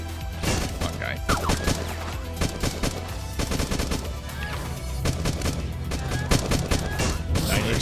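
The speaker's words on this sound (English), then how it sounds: "the easy way to take these guys out is to just spam fire this limited shot pistol" Rapid pistol fire spammed in the video game Beyond Sunset, a dense stream of sharp shots in quick succession over game music and effects, loud and continuous throughout.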